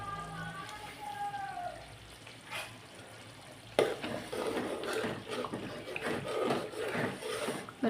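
A pot of rice with salt and turmeric, meant for coconut milk rice, boils vigorously, giving a continuous bubbling, sizzling patter that grows louder partway through, close by and without speech.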